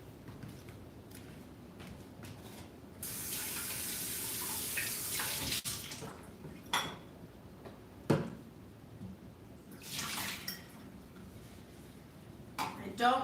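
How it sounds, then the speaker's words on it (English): A kitchen tap runs while dishes are washed at home, with a steady wash of water lasting a few seconds, then intermittent splashes, clinks and knocks, fairly quiet and close. "I'm gonna do some dishes now."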